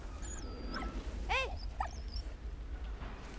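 A dog in the World War video game Valiant Hearts gives a short whimpering yelp and a few soft barks, brief and fairly quiet over a low game background hum.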